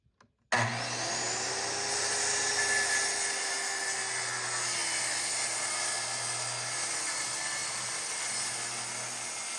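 A power saw runs steadily while cutting a wooden piece guided along a straight-edge jig, a loud continuous whine and hum starting abruptly and holding for about nine seconds with no talk.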